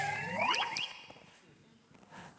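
A recorded bird mimics a synthesized electronic sound, with sweeping polyphonic whistled tones and overlapping rising and falling glides. They are loud at first and then fade into faint whirs and clicks.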